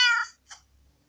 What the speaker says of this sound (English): Wait, what's that cat doing there?